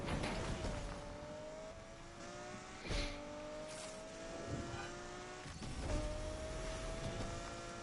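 In the Need For Speed Unbound racing game, a car drifts with a rising, revving engine tone and sliding tire noise, a few sharp shifts and bumps breaking up the continuous drone, close and fairly even in level without any voices.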